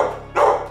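Adopted old dog giving two close, loud barks in quick succession, with no talking over them.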